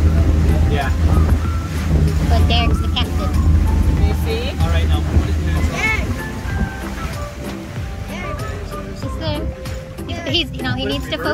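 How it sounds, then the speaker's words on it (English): Engine drone and rushing water churn continuously as a motorboat cuts across Lake Perris, with voices talking over it. "He's driving a boat."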